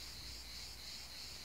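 A held grasshopper chirps in a hot vegetable garden, a faint, steady insect trill lasting the whole short moment with no voices over it.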